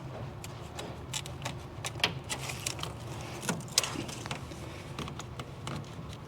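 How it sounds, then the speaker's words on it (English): A razor blade slicing down through weather stripping while fitting a tonneau cover on a 2024 Ford F150 truck bed, heard as a run of short, close scratchy clicks and taps over a low steady background. "So I'm just going to cut this straight down."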